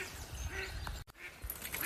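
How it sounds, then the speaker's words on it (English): A duck quacks faintly in the distance by a small pond off the River Tame, outdoors over steady background noise. "You can probably hear a duck squawking in the distance there."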